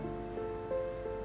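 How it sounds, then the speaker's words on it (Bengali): Gulab jamun frying in hot oil, a steady close bubbling sizzle with faint crackles and no voices. "বাকি যে গোলাপ জামুনগুলো আছে সেগুলো আমি একইভাবে ভেজে নেব।"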